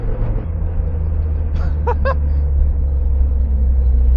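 A turbocharged BEAMS-engined Toyota AE86 drifts at FuelFest Phoenix 2025, held in third gear, giving a loud, steady low engine rumble with a few brief higher chirps in the middle.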